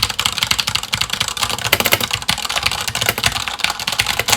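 Fast typing on a clicky Corsair mechanical keyboard in a home studio office, dense rapid key clicks rattling continuously and close up with no voices.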